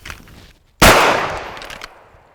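A single loud gunshot at an outdoor shooting range, an abrupt sharp crack after a quiet moment, trailing off into a decaying echo.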